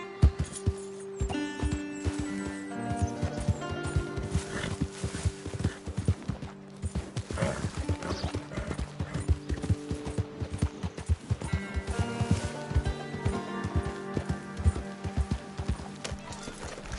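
A horse in a PS4 video game gallops with rapid, steady clip-clop hoofbeats and neighs now and then over a continuous game soundtrack, with the hooves close and prominent.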